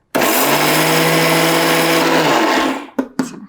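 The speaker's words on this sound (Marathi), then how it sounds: "हे अर्ध भाजलेलं बडशेप आणि धने घालते हे बारीक झालं की मग पुढचे घालणार आणि बारीक करून घेऊयात" A mixer grinder whirs loudly and steadily for a few seconds while grinding half-roasted fennel and coriander seeds for mukhwas, then winds down and stops, followed by a couple of brief clunks of the jar.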